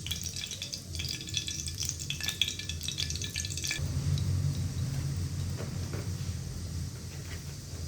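Mustard oil heats in a pan over a gas flame, starting with stirring clatter and bright sizzling crackle, then settling into a softer, steady low frying hiss.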